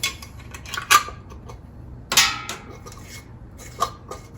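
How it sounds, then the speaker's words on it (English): A metal ring band being screwed onto a glass canning jar of beef broth, giving a few sharp scraping clicks and a longer grinding twist in otherwise quiet surroundings. "Screw the ring band on, finger tight."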